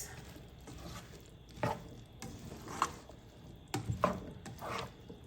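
A spoon scrapes and stirs through samosa filling in a pan after a sprinkle of garlic powder, soft scraping strokes with a few sharper clicks against the pan, quiet and close.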